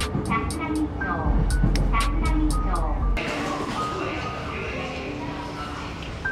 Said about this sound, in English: getting onto the train now